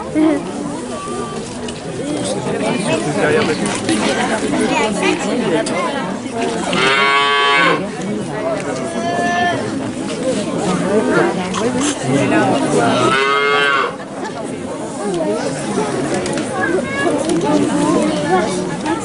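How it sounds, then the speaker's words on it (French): A small calf in a living nativity scene moos a few times, clear and nearby, with long drawn-out calls amid a crowd of people chatting and children's voices throughout. "le veau il est tout petit"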